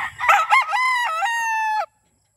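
Sweater x Boston Roundhead gamefowl cross rooster gives one loud, close crow of about two seconds, opening with broken rising notes and then holding a steady, drawn-out call before cutting off into silence.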